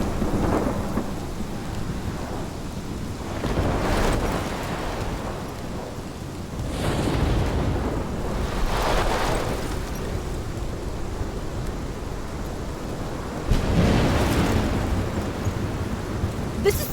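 A thunderstorm in the Life Is Strange video game: heavy rain falls steadily while deep rolling thunder swells and booms several times, loud and close.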